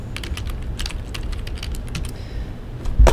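Quick bursts of typing on a computer keyboard, close and clear, keys clicking in uneven clusters with brief pauses and a heavier tap at the end, no talking.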